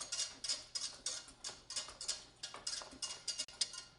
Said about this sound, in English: we're whisking it together for a beautiful roux that is heated through